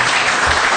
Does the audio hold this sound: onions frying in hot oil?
no